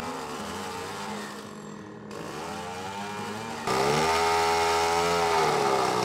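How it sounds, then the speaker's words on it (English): Wood being cut with a chainsaw on a remote island for traditional carving, a loud, continuous buzzing engine whine that dips and rises as the blade bites, jumping louder partway through. "So they're cutting the wood right now, as you can hear."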